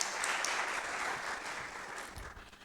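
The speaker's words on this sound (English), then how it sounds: "Let's clap for Lucy, please." Faint, distant applause from an audience at an academic colloquium, an even patter of many hands that thins slightly toward the end.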